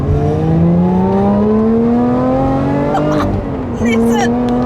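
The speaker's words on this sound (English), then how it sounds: "nothing sounds like a Lotus V6." A Lotus Evora V6 engine hums steadily and climbs in pitch, then briefly drops and picks up again, loud and close.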